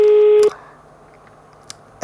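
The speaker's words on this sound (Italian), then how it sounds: "devo selezionare un numero al telefono" A steady telephone tone on a phone line plays loudly for about half a second, then cuts off abruptly, leaving faint line hiss with a brief click near the end.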